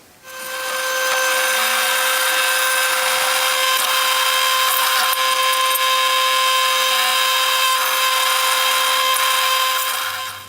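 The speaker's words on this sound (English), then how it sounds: "I'm going to drill a hole in the boss first" A power drill bores a hole through the boss of blacksmith knee tongs, a loud continuous high whine after a short start that runs steadily for about ten seconds before cutting off.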